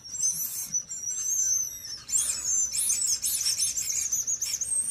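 A high, warbling whistle from a whistle-shaped candy trills in several short wavering bursts, fairly quiet and close, with no talking.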